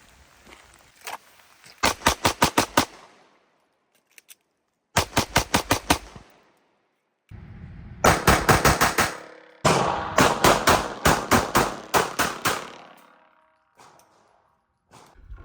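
Glock 17 pistol fire at an outdoor range with a 1200-round reactor magazine, loud sharp bursts of rapid shots separated by brief pauses, close and sustained in long strings.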